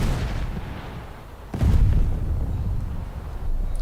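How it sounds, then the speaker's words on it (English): Bombs detonate in the War Thunder air combat game, a single heavy booming blast landing midway over a constant aircraft engine drone, loud and rumbling as it fades. "bombs away"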